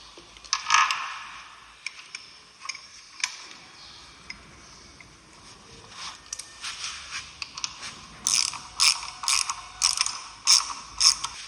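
Nuts being tightened with a ratchet onto the plates of Dismotech tubeless motorcycle rims, giving a run of close, crisp clicking bursts that grow denser and louder toward the end, alone with no talk.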